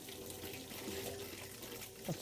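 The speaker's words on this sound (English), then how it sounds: "This is just showing that your hot water system is working" Hot water runs steadily from a tap into the sink of an Adria Coral Supreme 670SL caravan, a soft continuous splash close by with a brief clunk near the end.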